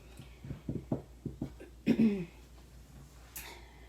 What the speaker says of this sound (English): Excuse me if I have sniffles this morning and clearing of the throat.